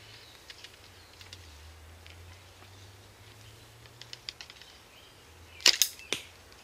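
A traditional bow is snap-shot, releasing an arrow fast: a sharp string snap and a second crack ring out loud and close near the end, following soft clicks and rustles over a low steady hum.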